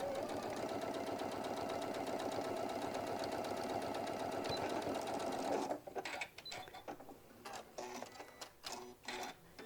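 A sewing machine runs in a steady fast rattle while stitching a hobo bag, then stops and gives way to a few short, uneven bursts of stitching.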